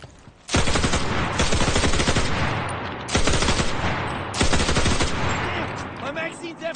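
Rifle fire in the WWII shooter Enlisted, on a US faction test server: three long strings of rapid, loud, close shots, separated by brief gaps.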